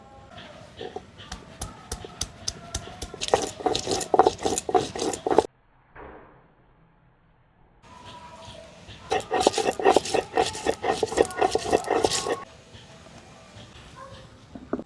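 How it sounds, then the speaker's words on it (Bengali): Ginger and mustard seeds ground into paste on a stone for a kalmi shak dish, heard as bursts of rhythmic scraping and knocking strokes, then a short pause, then another run of repeated grinding strokes, close and fairly loud. "এই আদা আর সরষাটা বেটে নেব"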